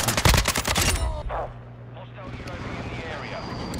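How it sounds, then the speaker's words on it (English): Shotgun fire in Call of Duty: Modern Warfare II, a loud burst of rapid blasts in the first second, then fading battlefield rumble with distant engine drone and a voice talking underneath. "Well, I am using a shotgun."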